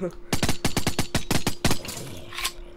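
Rapid bursts of gunfire from a gun in the Minecraft CrackPack modpack, about a dozen loud sharp shots in quick uneven succession, followed by quieter game sounds.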